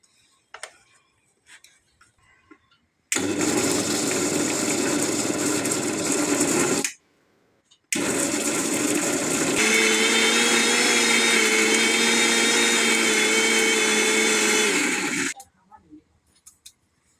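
An electric grinder whirs loudly as it grinds a lemon spice paste, running in two long bursts with a brief pause between and quiet gaps at either end, its pitch shifting partway through the second run.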